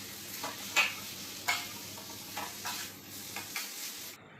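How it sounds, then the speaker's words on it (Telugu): Maggi noodles tossed with omelette pieces in a frying pan, the spatula scraping and stirring in repeated short strokes over a soft, steady sizzle, close and moderately loud with no talking. "ఇంకోసారి మ్యాగీ నూడిల్స్ను బాగా కలుపుకొని ముందుగా చేసి పెట్టుకొని ఉన్న ఆమ్లెట్ ముక్కలను వేసుకోవాలి"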